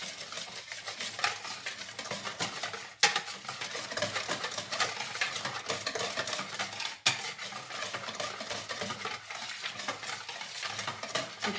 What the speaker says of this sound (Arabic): كنزيدو عليهم الماء وكنخلطو غير بالطراب اليدوي حتى كيتجانسوا المكونات مع بعضياتهم